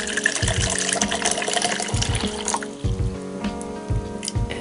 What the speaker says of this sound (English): Now we're gonna pour it.